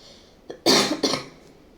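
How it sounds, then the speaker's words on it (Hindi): Two sharp, close coughs in quick succession from a Hindi-speaking vocabulary teacher, the second a little shorter, standing alone in a quiet room. "पता नहीं खांसी क्यों आ जाती है मुझे बीच में।"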